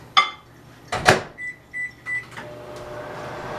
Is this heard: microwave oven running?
yes